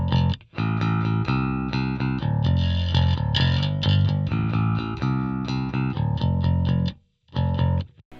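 A bass guitar soloed through a Logic Pro bass amp simulator with a compressor, playing a steady run of loud, sustained notes with brief gaps near the start and end.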